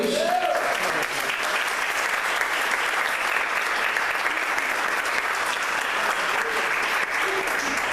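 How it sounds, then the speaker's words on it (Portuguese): A church congregation applauds Jesus, a continuous, even wash of many hands clapping at close range that holds steady for the whole stretch. "Quem pode aplaudir o Senhor Jesus?"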